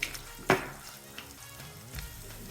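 Crushed garlic cloves dropped into hot oil tempered with asafoetida for a moong dish, a sharp sizzling burst followed by a quieter, steady crackle and a few soft stirring clinks, close and fairly faint.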